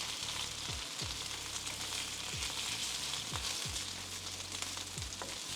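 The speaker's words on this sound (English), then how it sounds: "Can you hear the sizzling?" Food fries in a hot pan for a Korean dish, giving a steady close sizzle and crackle with occasional soft clinks and stirring sounds, and no talking.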